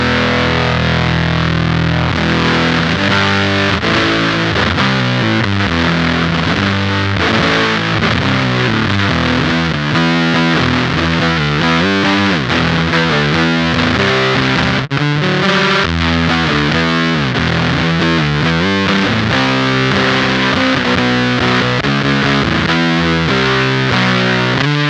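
Electric guitar played through a Beetronics Octahive V2 vintage-style fuzz pedal with its boost at about 75%, a thick, woolly, heavily distorted tone with chugging riffs and sustained chords, loud and continuous throughout with no talking.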